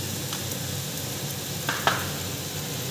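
Spices frying with onions in hot oil for a Bengali crab curry: a steady close sizzle throughout, with a couple of faint scraping stirs near the end and no speech.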